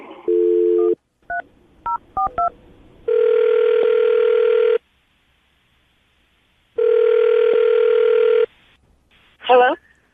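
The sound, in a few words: telephone dialing and ringing tone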